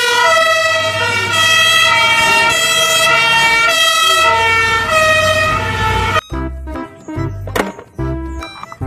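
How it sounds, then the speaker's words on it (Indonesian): A toy fire truck's electronic siren wails loud and close in a rising and falling pattern for about six seconds, then breaks into choppy, stuttering bursts of tone. "Truk pemadam kebakaran."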